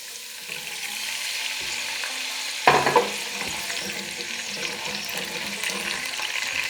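Water splashes into a hot pan, setting off a burst of sizzling and crackling that continues steadily as the food fries.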